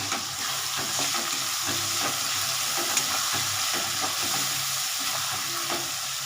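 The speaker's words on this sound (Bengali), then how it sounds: "এই মশলাটার মধ্যে দেবো। দিলাম, এবার আমি নাড়াবো একটু।" Spices fry in a pan for a Bengali cabbage ghonto with rohu fish head, giving a steady close sizzle broken by repeated scraping stirs, with no one talking.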